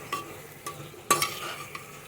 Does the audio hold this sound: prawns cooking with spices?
yes